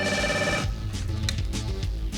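A telephone rings in a few quick electronic bursts, then breaks off into a busier stretch of low muffled sound with no clear talk.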